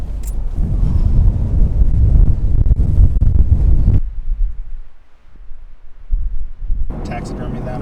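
Wind on a chilly hilltop above Lake Superior buffets the microphone in a loud rumbling gust that breaks off into a quieter lull before picking up again.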